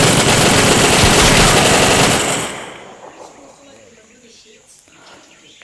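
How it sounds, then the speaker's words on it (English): Loud, dense machine gun fire in a close-quarters video game rattles continuously for about two seconds, then cuts off, leaving quieter game ambience with faint sounds. "I started off a machine gun"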